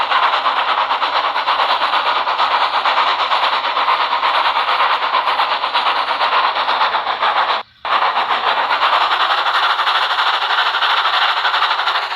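A steam engine runs along the line with a steady, loud, continuous rumbling hiss. It drops out briefly once partway through, then carries on.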